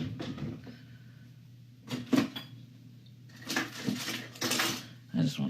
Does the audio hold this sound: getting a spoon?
yes